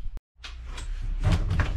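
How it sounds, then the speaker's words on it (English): A door bumps and scrapes as it swings open and catches against luggage piled behind it, a short clunk followed by rustling and shuffling nearby. "Door doesn't open all the way because of all my stuff."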